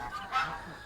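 A domestic goose near its nest gives one short, faint honk in a quiet outdoor setting.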